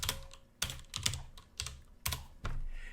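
Keys clatter on a computer keyboard in quick, irregular bursts of close, crisp taps, typing out a line of C++ code with no voices present.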